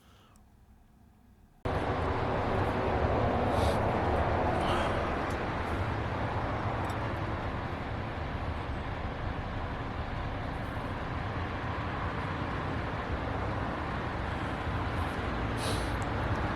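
Outdoor city background of passing trams and car traffic, a steady broadband rumble and hiss that begins abruptly after a quiet opening, heard alone with a few faint clicks on top.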